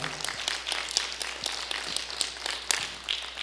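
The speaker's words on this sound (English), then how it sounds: "Another round of applause for Cliff and Jahan." An audience in a cathedral applauds for Cliff and Jahan, a short burst of scattered, fairly close hand claps over a low steady hum.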